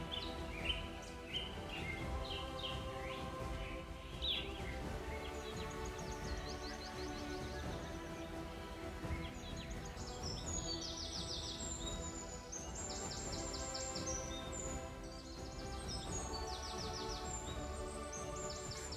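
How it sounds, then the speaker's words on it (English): A flock of lesser flamingos calls along the shore of a saline lake, a continuous chorus of overlapping chattering honks at moderate distance, fairly faint and steady, with no voices. "Most notable are the flocks of lesser flamingos."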